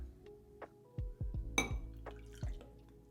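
Abstinence Epilogue X spirit poured into a cocktail glass: a few soft drips and splashes, then a brighter glassy clink midway, close and fairly quiet with no talking.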